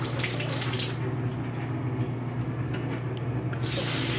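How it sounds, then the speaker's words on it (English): Water pours steadily from a sink tap in a lodging in southwest New Hampshire, a loud continuous hiss and splash that stays close and even throughout, with no talking. "Adequate water pressure. Just have to turn it up higher. That was the sink."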